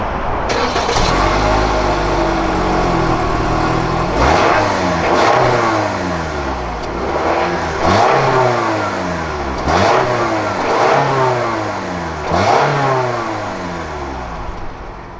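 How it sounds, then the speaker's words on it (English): A 2019 Toyota RAV4 XLE engine starts and is revved repeatedly, each throttle blip rising and falling in a rhythmic series of mid-pitched surges heard close by, with no talk. "Now let's hear how this thing sounds."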